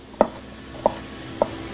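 A knife chops food on a cutting board in three separate sharp knocks, evenly spaced and close up, with a quiet background and no talking.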